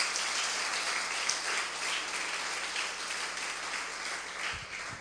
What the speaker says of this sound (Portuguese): aplauda ao Senhor também